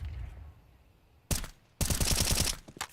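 Automatic rifle fire in the Counter-Strike map Inferno during a competitive esports match: a short sharp burst, a pause, then a longer loud sustained spray of rapid shots, followed by a final quick shot.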